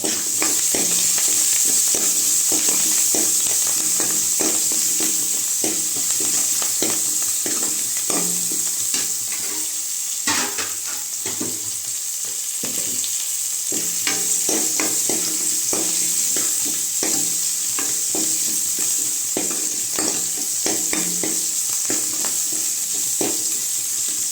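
Crushed garlic stirred into a hot pan while making dal sambar, with a loud continuous sizzle and frequent rhythmic scraping and clattering of a spoon, close up throughout.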